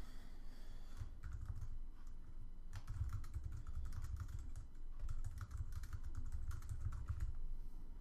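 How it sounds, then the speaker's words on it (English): Quiet, steady typing on a computer keyboard, with rapid irregular key clicks in bursts and short pauses, close and alone without speech. "For the message, I'm going to type you forgot to type in a bill amount"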